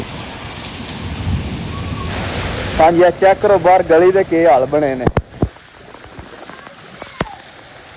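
A rainstorm with thunder, steady rain hissing in the background while someone speaks over it, then a few sharp close thunder cracks and fainter rain afterward.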